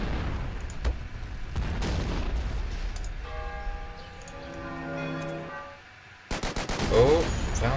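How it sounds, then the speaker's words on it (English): Flak fire in the Rise of Nations strategy game, rapid bursts of anti-aircraft gunfire cracking at mid distance, with a voice talking over the shooting and a bell-like tonal sound partway through. "Flak fire."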